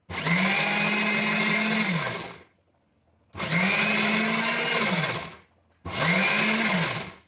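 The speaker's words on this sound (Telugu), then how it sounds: "ఇప్పుడైతే మిక్సీ పడతాను." A kitchen mixer grinder grinds soaked ration rice in three loud, steady motor bursts, two long and one shorter, with brief silent pauses between them and no talking.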